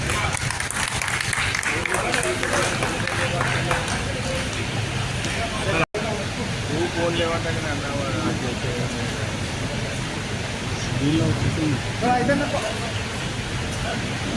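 Dense, steady applause fills a hall at a national journalists' union conference, sustained for the whole stretch with only one abrupt break, while voices talk over the clapping.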